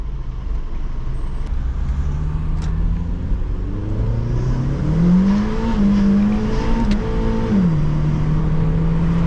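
A turbocharged Honda Civic with an R18 engine and a Civic Si exhaust pulls hard, its engine note climbing in pitch through the gears, loud and close from inside the cabin, with the revs dropping briefly between shifts.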